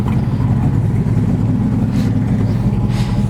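A restored 1968 Ford Mustang 390 GT with a 5-speed runs with a deep, steady rumbling V8 idle, loud and close, holding an even throaty drone with slight swells.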